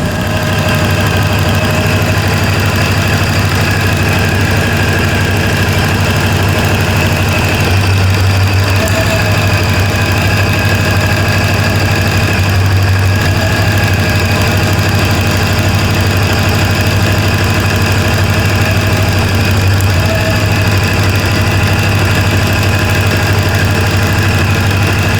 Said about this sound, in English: Yeah, It's misfiring again.